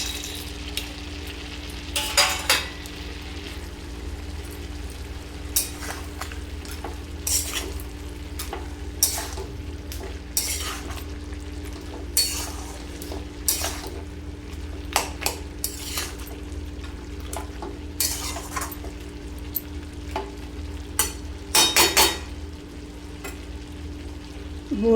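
Banana stem curry with fried lentil bori being stirred in a pan, a spoon scraping and clacking against the metal in irregular strokes over a steady low sizzle.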